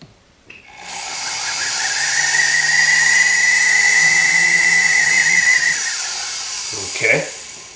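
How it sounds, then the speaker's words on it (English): A small jewelry drill bores a hole for flush-setting a diamond in a Chinese dadao war sword pendant, giving a loud, steady high-pitched whine that spins up, holds for several seconds and winds down. "So the first thing one wants to do is to drill a hole."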